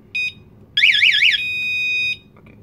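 A home security alarm system being armed beeps and sounds: a short tone, then a loud warbling siren that settles into a steady high beep, followed by another brief tone and faint chirps in a quiet room.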